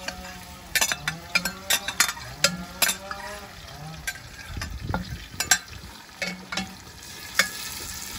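Carrots and onions sizzle in hot oil in an Afghan cauldron while a utensil stirs and scrapes, with intermittent metallic clinks against the sides.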